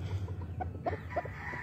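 Roosters on a gamefowl farm cluck in a few short, soft calls, heard at moderate distance over a low background hum.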